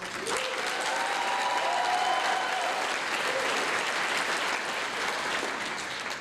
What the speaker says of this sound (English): Can I get another round of applause from Miss Kylie Mitchell-Wells?